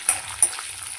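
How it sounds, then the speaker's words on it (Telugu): Curry leaves crackling in hot oil for a tomato coriander chutney tempering, a brief bright sizzle with two sharp pops up close, no voices. "కరివేపాకు వేసుకున్న తర్వాత ఇలా అయితే వేయించుకొని"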